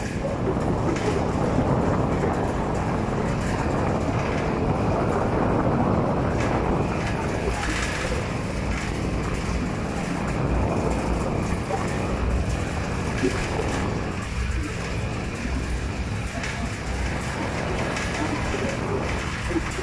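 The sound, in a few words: strong wind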